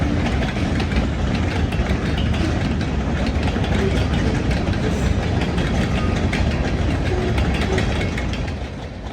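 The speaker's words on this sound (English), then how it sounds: "the rhythmic sounds of a train rolling over jointed rail" A freight train rolling over jointed rail at night in Greenville, South Carolina, a loud, continuous close rumble with dense rhythmic clatter that holds steady and eases slightly at the end.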